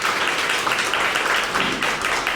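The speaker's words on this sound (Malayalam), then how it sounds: "ഒന്ന് കൈയടിച്ച് കർത്താവിനെ മഹത്വപ്പെടുത്തുക" A retreat congregation in Trivandrum claps hands in praise, a dense, continuous wash of many people applauding, close and loud, steady for the whole stretch with no talk over it.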